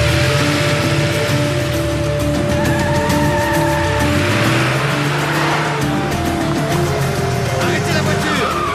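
A car revs and drives off with tires squealing and skidding, its engine pitch rising and sweeping upward, loud and close, with a voice shouting over it.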